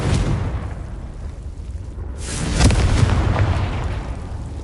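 A Confringo blasting spell goes off in the Hogwarts Legacy game, a loud booming explosion with a broad rushing roar that swells midway and lingers to the end.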